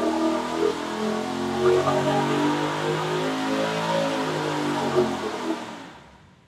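A 416ci LS V8 on a dyno pull at 26 degrees of timing revs hard and steadily under load, a loud, close, rising engine howl that cuts off abruptly at the end.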